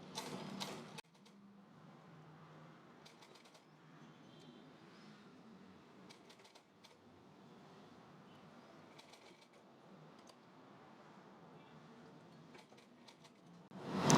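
A sewing machine stitches pleats into a puff blouse sleeve, giving a steady, fairly quiet mechanical whir and rattle with brief louder bursts, and no talking.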